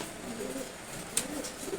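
Pigeons kept as pets coo softly in a low, steady murmur throughout, with a brief higher chirp near the middle.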